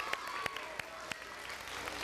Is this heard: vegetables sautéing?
no